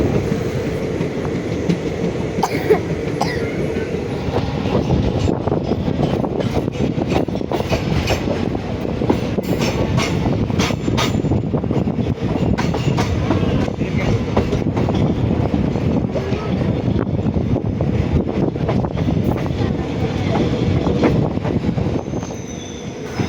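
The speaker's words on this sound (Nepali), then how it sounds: "अब ट्रेन गइरहेको छ" A train rumbles past close by for a long stretch near Sevoke station, with continuous wheel clatter, rattling cars and occasional squeals, loud and steady throughout.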